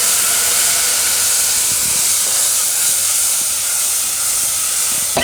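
Gravy poured into a hot pan of tempered red chillies and curry leaves for a sprouted chana methi shaak sets off a loud, steady, close sizzling hiss that holds with little change throughout.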